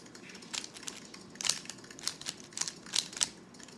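Quick, light clicks from typing on a low key-travel keyboard, crisp and close, arriving in irregular bursts with small pauses and no voice over them.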